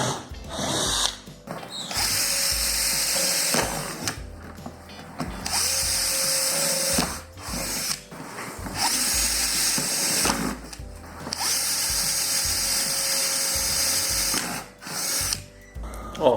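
A power drill bores holes through plastic basins for a DIY dog house, whining in several close, loud bursts separated by short pauses, with no talking.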